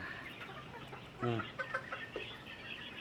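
A chicken gives a short burst of clucking over a steady, noisy farmyard background where chickens and quails are kept, followed by a few softer clucks.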